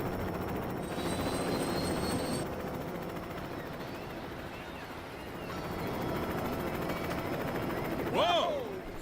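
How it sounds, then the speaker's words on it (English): Helicopter flying over Albatross Island in LEGO City Undercover, a steady droning rotor hum that swells and fades slightly, with brief speech and a sharp exclamation near the end. "Here we are at Albatross Island, flying the chopper."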